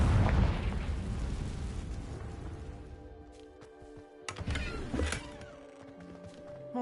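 A Confringo spell goes off in Hogwarts Legacy, a heavy booming blast up front that rumbles away, followed by a couple of sharper bursts and crackles a few seconds later.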